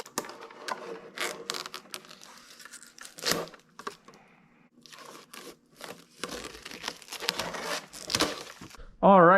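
Masking tape being peeled off a freshly painted RC truck cab, a 1946 Dodge Power Wagon replica, gives close, crackly tearing and crinkling in irregular bursts, with someone talking quietly in between.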